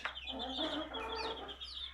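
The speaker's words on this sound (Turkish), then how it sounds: "Gerze civcivlerimiz bunlar." Gerze chickens cluck nearby while their chicks peep in high, busy chirps, a continuous flock chatter with no pauses.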